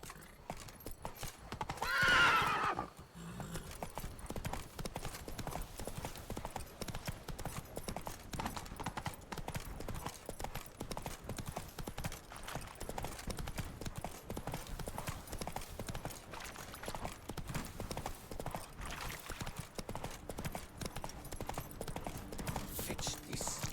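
Galloping horse hooves in The Witcher 3: Wild Hunt, a steady rapid clip-clop rhythm running throughout with a whinny near the start; a voice speaks briefly over the continuous hoofbeats.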